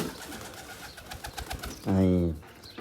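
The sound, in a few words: trained pigeon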